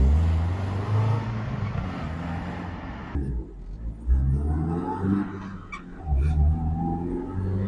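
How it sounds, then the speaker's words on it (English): A restored 1958 Mercedes 190SL with rebuilt engine and gearbox accelerates briskly through the gears, engine note rising, dropping sharply at a shift, then climbing again in close, loud pulls. "Accelerates briskly through the gears."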